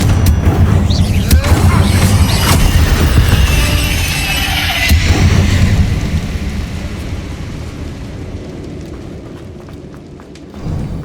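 A Confringo fire spell blasts a barricade in the Hogwarts Legacy video game, loud crackling booms and debris bursts in the first half, then rumbling that fades to a quieter tail.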